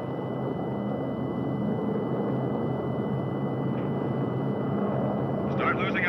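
Airplane engines drone steadily through the whole stretch, a continuous mid-volume hum with no clear breaks, and a brief higher burst comes near the end.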